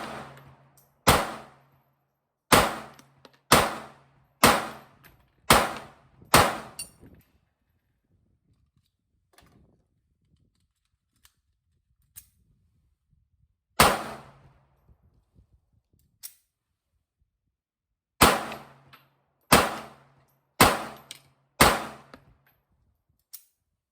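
A Colt Mark IV Government .380 pistol fires CCI Blazer round-nose ammunition in sharp, loud reports, first a quick string of six, then one lone shot after a pause, then five more, with quiet handling clicks between.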